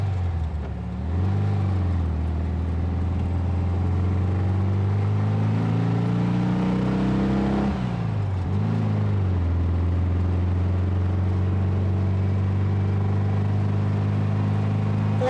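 A 1964 Volkswagen dune buggy's engine drones steadily while driving, a close, continuous rumble that dips and rises briefly as it shifts, then settles back into a constant hum.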